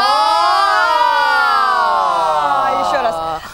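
A singer's voice imitates a wailing air-raid civil defense siren, a sustained gliding tone that rises and slowly falls over a few seconds, loud and close, ending abruptly.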